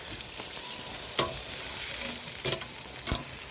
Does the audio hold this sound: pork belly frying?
yes